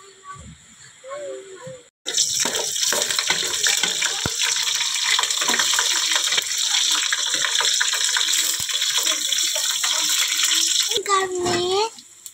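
Water pours steadily from a tap into a basin for around ten seconds, a broad continuous rush, during outdoor cooking of tinola chicken soup; voices talk briefly before and after the flow.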